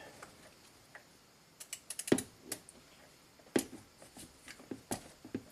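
A wrench turns a broken Maserati engine backwards by hand, making a string of sharp metallic ratchet clicks and ticks in uneven bursts. The clicks sound close and quiet over a faint background, with no talking.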